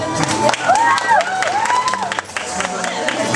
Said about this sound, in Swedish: Varm applåd!